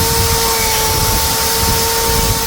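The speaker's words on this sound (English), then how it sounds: "drill's on, here comes the noise." A magnetic drill bores into metal with a loud, steady mechanical whine, constant tonal hum and broadband grinding noise, continuous throughout and close by.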